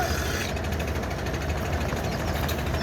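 Diesel engines of river launches bound for Barisal and Chandpur at the Sadarghat ferry terminal give a steady, dense rumble with a hiss of surrounding harbor noise, continuous and fairly close for the whole stretch.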